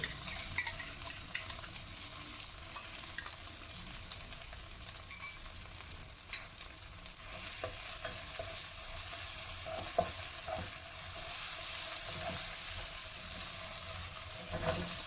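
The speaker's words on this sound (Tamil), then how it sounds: "கேப்சிகம் ரொம்ப வதங்க வேணாம், லைட்டாக வதங்கினா போதும்" Capsicum with onion and tomato paste sautés in a pan for a tofu sambal chilli fry, a continuous soft sizzle with scattered stirring clicks and scrapes, fairly quiet and with no talking.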